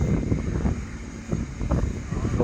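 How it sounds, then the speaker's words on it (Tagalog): Steady gusty typhoon wind buffeting the microphone near the sea, a low continuous rumble that swells and eases, with no speech. "Lumakas naman yung hangin mga idol, oh."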